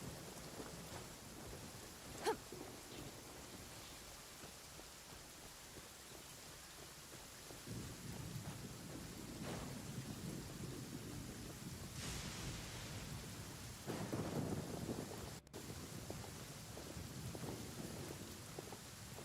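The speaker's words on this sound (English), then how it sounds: "Oh man, it stopped raining." Rain and thunder in the game Genshin Impact: a steady, faint wash of rainfall with several low rumbles of thunder rolling in and out, distant and soft, no talking.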